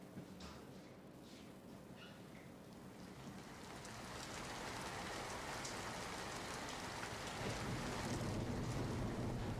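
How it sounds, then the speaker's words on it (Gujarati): Heavy monsoon rain falls in Tapi, Gujarat, a steady broadband hiss of downpour that grows denser and louder over several seconds, with a faint rush of wind beneath it. "તાપીમાં પણ છેલ્લા 24 કલાકમાં ધોધમાર વરસાદ વરસ્યો છે"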